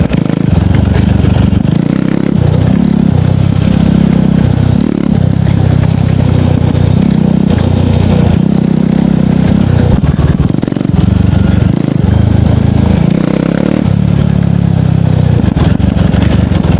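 KTM Duke 390 motorcycle engine with a misfire, loud and close, pulsing in repeated revs and surges with rough clattering bursts as it rides along a dirt road.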